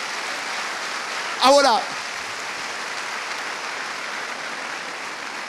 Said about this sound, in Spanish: Vamos, dale ese aplauso al Señor.